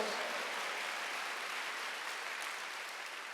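A church congregation claps together during a Korean Wednesday worship service, a fairly quiet, even wash of many hands sustained throughout.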